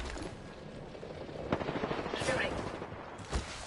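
Video game gunfire: a rapid string of shots with a couple of sharper bangs over a noisy battle background, with faint voices underneath.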